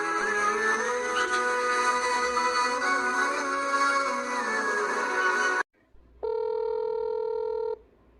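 A phone being dialed to place a call: a long stretch of dense, steady electronic tones and beeps, a brief break, then a clear sustained ringback-style tone, close and fairly loud with no talking.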